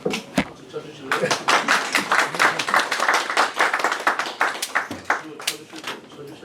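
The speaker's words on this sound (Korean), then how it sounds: "박수 쳐주실래요?" An audience at a municipal presentation on quantum industry strategy claps in a brisk burst of sharp, distinct hand slaps. The clapping starts after a short pause, stays fairly close and loud, then thins out toward the end.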